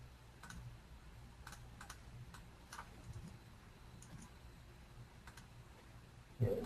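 Quiet, light tapping of computer keys in short irregular bursts, close and soft against faint background hum.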